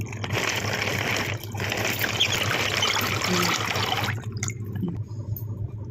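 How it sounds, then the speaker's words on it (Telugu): Water pours steadily into beaten sour curd in a bowl as buttermilk is made, a continuous close splashing trickle for about four seconds that then stops. "వాటర్ పోసుకుంటూ"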